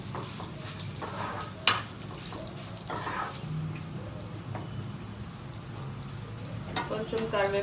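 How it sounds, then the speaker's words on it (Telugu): Curry leaves and dried red chillies fry in a pan for ridge gourd chutney, giving a steady close sizzle with faint crackles and a few brief clinks or stirring scrapes over it. "కొంచెం కరివేపాకు, ఎండుమిర్చి అన్నీ ఫ్రై అవ్వాలి."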